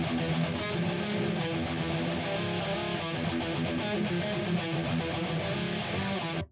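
A crunchy, distorted electric guitar tone from an Aurora DSP Laboga Mr. Hector amp simulation playing a steady, dense riff with a gritty amp sound, continuous and loud until it cuts off.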